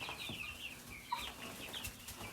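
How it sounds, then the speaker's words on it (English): Soft chicken clucks and chatter from a small flock, fairly faint and scattered against a quiet background. "These are our chickens."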